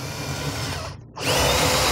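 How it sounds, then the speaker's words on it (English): A power drill whirs loudly, briefly spins down to near silence, then spins back up at full speed, close by. "Drill my hole through, I can run my wires."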